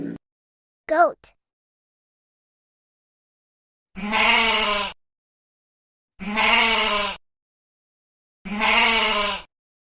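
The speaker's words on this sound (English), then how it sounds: "Goat." A goat bleats three times at a steady pace, each call about a second long and clearly audible against silence, with a couple of short faint sounds at the start.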